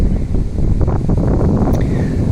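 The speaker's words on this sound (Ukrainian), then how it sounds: "Зараз вітер такий." Strong wind buffets the microphone in heavy low rumbling gusts, loud and continuous for a couple of seconds, outdoors at Gage Park in Hamilton.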